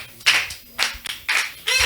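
A church congregation at a Sunday service applauds in short bursts, four distinct rounds of clapping separated by brief pauses, close and fairly loud.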